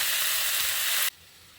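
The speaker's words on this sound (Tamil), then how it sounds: "தக்காளி, கொஞ்சம் பெரிய வெங்காயம், அப்புறம் ஒரே ஒரு உருளைக்கிழங்கு இதையும் போட்டு நல்லா வதக்கிடலாம்." Loud, steady sizzle of tomato, large onion and a single potato frying in a pan, then cutting off abruptly to a quiet hiss just past the one-second mark.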